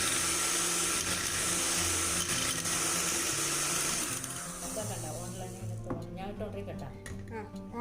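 An electric egg beater whirs loudly and steadily in a bowl of chocolate cake batter, then fades out partway through as people talk in a home kitchen.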